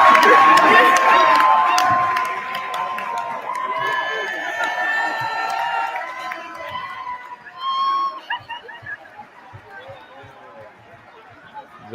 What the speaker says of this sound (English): The crowd goes wild at Archbishop Stepinac High School